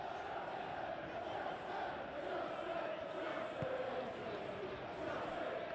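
A football stadium crowd at a Premier League match between Chelsea and Manchester City gives a steady, far-off roar of approval, a dense wash of noise with no break.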